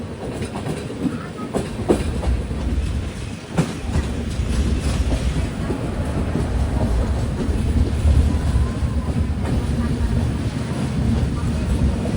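Barauni to Jaynagar Express pulling into Jaynagar station after a 150 km run, a steady loud rumble of wheels and carriages with faint clicks and wind buffeting, continuous throughout.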